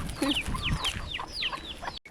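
Several chickens cluck and squawk close by in quick, overlapping bursts on Andaman and Nicobar Islands, with no one speaking.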